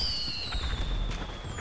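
Fireworks shot from a firework launcher in GTA 5 Online, with whistling streaks rising and falling over rapid crackling pops and sparkly bursts, fairly loud and close.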